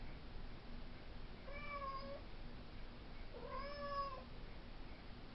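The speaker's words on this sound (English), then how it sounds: "My cat Bubbles is crying." A house cat meows twice, two drawn-out, wavering cries spaced about two seconds apart, faint against a quiet indoor background hiss.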